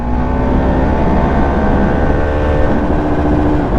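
A Husqvarna Vitpilen 701 motorcycle engine holds at high revs on the rev limiter around 9000 rpm, a loud, steady buzzing roar that stays pinned near its limit without easing off.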